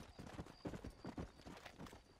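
Rhythmic clip-clop of a horse's hooves trotting in Red Dead Redemption on Xbox One, steady and fairly close, with a faint whinny mixed in among the hoofbeats.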